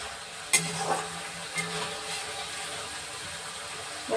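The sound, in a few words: sautéing green banana in pan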